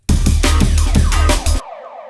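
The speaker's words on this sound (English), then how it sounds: "So here what I've used is the siren." A dub siren effect fires in a rapid series of pulsing electronic wails, loud and repeated, then cuts off into a fading echo tail.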